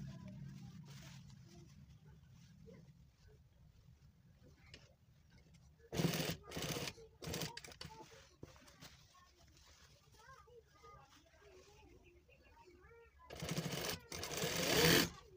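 A sewing machine stitches a child's suit in short bursts, a loud buzzing run near the middle and another at the end, while someone talks between the runs.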